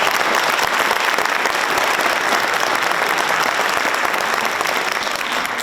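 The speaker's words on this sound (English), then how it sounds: "Round of applause, please" A school audience at a varsity letter jacket award night breaks into loud, sustained applause, dense clapping filling the room evenly.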